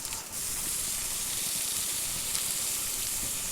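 Breakfast sausage sizzling in a pan over a campfire, a steady close hiss of frying fat running evenly throughout with no voices.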